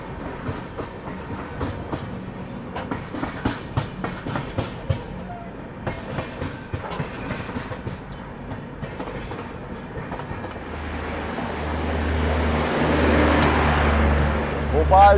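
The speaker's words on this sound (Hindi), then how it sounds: "चलो शताब्दी एक्सप्रेस की क्रॉसिंग आप लोग देख लीजिए।" Shatabdi Express departing a station platform, its wheels giving a steady clickety-clack that builds into a loud, close rumble and low engine drone toward the end, with faint voices in the background.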